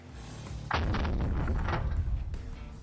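An AK-50 .50 caliber rifle fires a single loud, heavy boom with a sharp onset that rumbles and sustains for about two seconds before fading.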